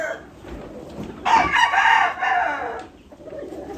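A rooster crows once, loud and fairly close, its drawn-out call rising over a windy outdoor background.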